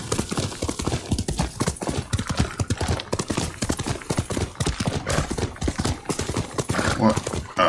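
A horse gallops in Ghost of Tsushima, with loud rapid hoofbeats pounding in a steady clip-clop rhythm close by, and a brief whinny toward the end under game ambience.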